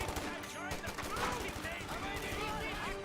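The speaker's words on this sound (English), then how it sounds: "50 cal on the flank, hitting the Pack 40." Company of Heroes 2 battle with .50 cal machine gun fire, dense rapid bursts of gunfire mixed with other shots and explosions, continuous and busy, with a commentator talking over it.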